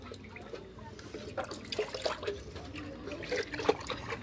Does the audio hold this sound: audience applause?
no